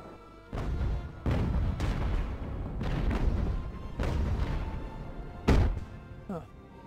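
Ship cannons boom out in a naval battle in Ultimate Admiral Age of Sail, five or six heavy separate blasts a second or so apart, each with a rumbling tail, with a voice talking at times.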